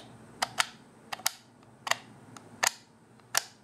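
Rotors of a 3D-printed Wehrmacht Enigma machine, turning on a stainless steel 8mm shaft, click as they advance: about seven sharp, close clicks, some in quick pairs, at an uneven pace over quiet background.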